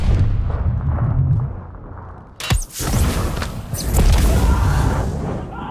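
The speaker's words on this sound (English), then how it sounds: "That bullet transition between Paulina to Arthur is freaking insane." A gunshot rings out in a Call of Duty: Vanguard campaign scene, a sharp crack midway through set against heavy rumbling, cinematic booms and a dense wartime soundscape.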